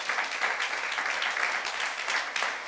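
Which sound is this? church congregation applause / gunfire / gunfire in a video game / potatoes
church congregation applause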